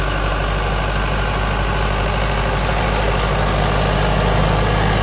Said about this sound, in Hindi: पूरा दम मार रहा ट्रैक्टर